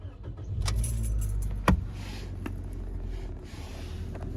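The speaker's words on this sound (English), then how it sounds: "And start the car." A car engine cranks and catches to a steady idle, close and moderately loud, with a sharp click or jangle partway through, during a bad battery check.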